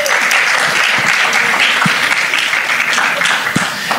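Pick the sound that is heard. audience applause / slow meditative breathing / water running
audience applause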